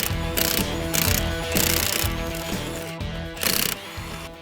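Air impact gun zipping lug nuts off the wheels of a New Holland P2080 airseeder, loud repeated rattling bursts of hammering with short pauses between, close up and alone.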